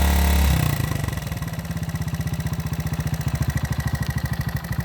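A 1971 Honda SL70 motorcycle engine idles close by after a brief louder burst at the start, settling into a steady, even low putter that continues for the rest of the run.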